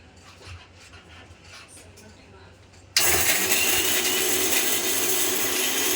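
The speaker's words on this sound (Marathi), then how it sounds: "तर आपण मिक्सरला आता ग्राइंडर करत आहोत." A mixer grinder grinding sesame and garlic for tilkut starts abruptly halfway through, its loud steady motor whir replacing quieter kitchen sounds and running on continuously to the end.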